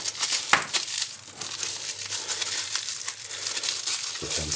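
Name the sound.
plastic bag being opened, crinkling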